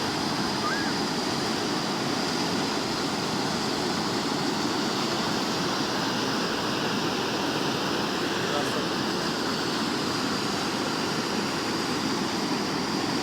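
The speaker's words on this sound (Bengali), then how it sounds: "বৃষ্টি হইতেছে আজকে, অনেক বৃষ্টি হয়েছে" A steady, dense roar of heavy rain and rushing floodwater around houses in Oman, continuous and unbroken throughout, fairly loud and close with no pauses.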